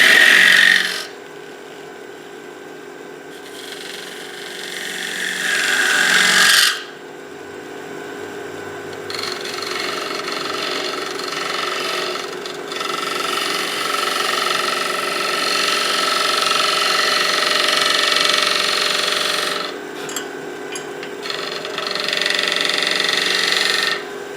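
Wood lathe gouge cutting a wide-rimmed bowl, a steady broadband rasping and scraping that runs close and continuous, with brief pauses and changes in pressure as the cut is opened up.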